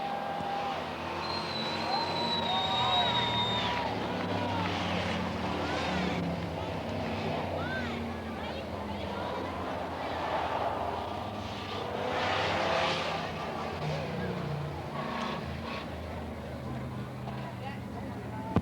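Pure Stock Cup stock cars running a 10-lap heat race at Coos Bay Speedway in 1988, a dense sustained roar of engines under an announcer's voice, steady throughout with swells as cars pass.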